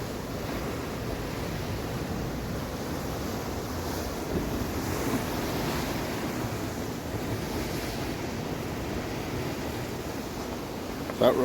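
Steady broadband roar of sea surf washing in below high sea cliffs, continuous and fairly loud with wind buffeting the microphone throughout, no talking.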